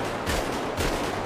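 Rapid gunfire rattles against car tires in Grand Theft Auto V, a couple of faint, muffled bursts over a steady noisy bed with no talk.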